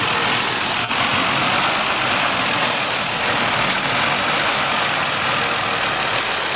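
A Ford Taurus engine with an intake manifold vacuum leak idles up close, a steady, loud, even running rumble with a constant hiss and no voices.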